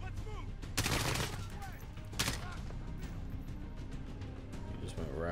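A machine gun in Call of Duty: Modern Warfare (2019) fires two short, sharp bursts that cut through busy game noise, with people talking throughout.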